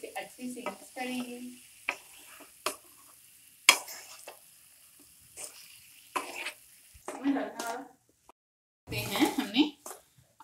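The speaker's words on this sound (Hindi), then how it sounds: "आलू को मसाले के साथ अच्छे से भून लिया है।" Potatoes coated in spices are stirred and fried in a pan, with scattered spatula scrapes and short bursts of sizzling separated by quiet pauses.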